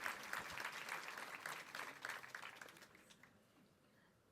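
A small audience at a chocolate pastry demonstration claps, a quiet, close patter of applause that fades out over a few seconds into near silence.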